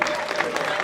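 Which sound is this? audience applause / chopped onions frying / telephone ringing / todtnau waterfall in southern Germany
audience applause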